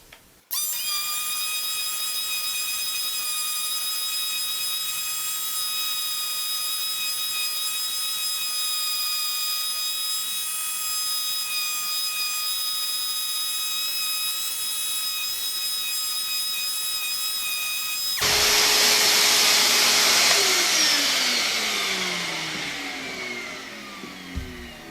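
A Ryobi P440 quarter-sheet sander runs sped up as a steady high whine with tonal overtones for most of the stretch, then shifts to a louder, rougher, falling-pitched whir near the end before cutting off.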